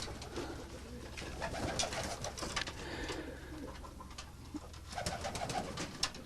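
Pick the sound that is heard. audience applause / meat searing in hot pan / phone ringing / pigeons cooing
pigeons cooing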